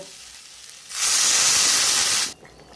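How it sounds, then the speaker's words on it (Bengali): Water poured into a hot pan of fried bata fish, potato and brinjal bursts into a loud, steady sizzle and hiss that lasts over a second, then cuts off abruptly, leaving quiet kitchen background. "তো আমি এখন জল দিয়ে দেব।"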